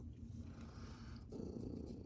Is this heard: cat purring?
yes